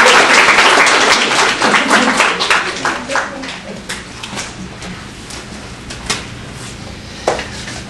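Clapping from a small group of people, dense and steady at first, then thinning to scattered individual claps that trail off over several seconds.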